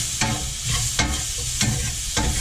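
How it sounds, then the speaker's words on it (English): Steak and onions sizzling loudly in a hot cast iron pan, stirred with a utensil that scrapes the pan in sharp strokes about every half second over a steady frying hiss, close up. "We're going to mix our steak and onions."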